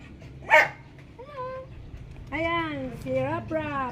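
A dog gives a sharp bark, then whining, yelping vocalizations, close and loud, with people's voices mixed in.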